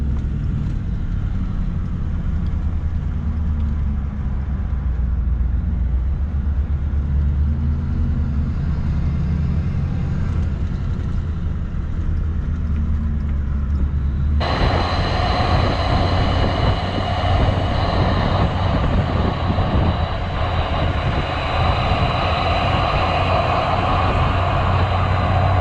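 Engine of a modified Toyota Landcruiser 79 series drones and rumbles steadily while climbing a steep dirt track in two-wheel drive, with low engine tone and rattling cabin noise that turns brighter and harsher partway through.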